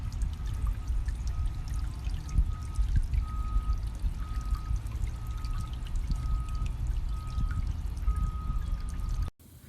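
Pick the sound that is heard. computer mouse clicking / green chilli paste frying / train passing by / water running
water running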